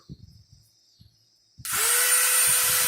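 A Dremel rotary tool grinding glass for flintknapping starts abruptly after a few soft knocks and handling sounds, then holds a steady high-pitched whine, close and continuous.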